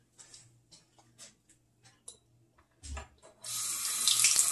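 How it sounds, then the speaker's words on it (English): A spoon is handled with faint clinks and taps in a quiet kitchen, then the sink tap opens and water gushes steadily and close for the last second. "I need to wash off my spoon."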